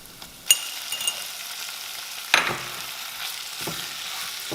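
Chicken pieces sizzling and frying with softened onions in hot oil over a high flame, with a steady crackle and a few sharp bursts as the food is stirred, close and fairly loud with no talking.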